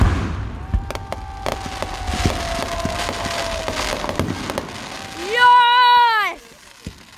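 Fireworks show with scattered sharp pops and crackles over whistling streaks, then a long loud rising whistle near the end followed by a final faint bang.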